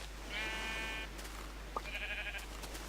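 A Minecraft sheep bleats twice, a short buzzy nasal cry followed by a second one, moderately loud over a steady electronic hum with a small click between them.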